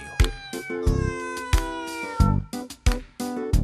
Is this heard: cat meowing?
yes